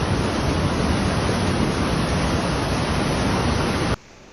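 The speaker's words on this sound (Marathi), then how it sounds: "तुम्ही बघू शकता किती प्रमाणामध्ये पाणी सोडलेलं आहे" Massive floodwater released from the Khadakwasla dam in Pune during heavy rain roars as a loud, steady, broadband rush, continuous and close, then cuts off abruptly near the end.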